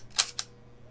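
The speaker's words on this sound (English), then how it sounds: "I don't know if I could hear the sound of the shutter." Two quick mechanical clicks of a medium format film camera shutter, crisp and close, followed by quiet.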